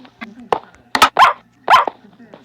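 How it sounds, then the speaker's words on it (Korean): Dogs bark in a Minecraft multiplayer session, a few short yaps and barks spread across the moment, mixed with players talking over voice chat. "강아지들."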